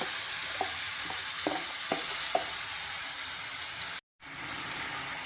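Soaked raw mango pieces stirred into hot sesame-oil tempering with curry leaves and asafoetida in a pan over low flame, giving a steady close sizzle with a few soft scraping stirs early on, no voices.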